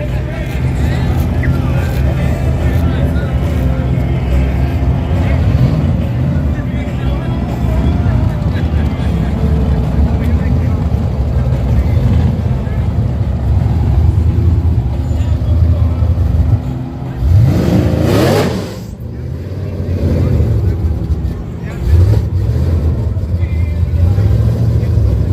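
Street drag racing cars, including a Cobra and a Hellcat, accelerate hard with a loud sustained engine roar, then a sharp rising pass near the end, while a commentator talks over the noise.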